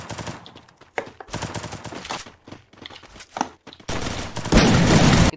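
Gunfire in a video game shootout: loud, close bursts of rapid automatic fire broken by short pauses, ending in a denser, sustained volley.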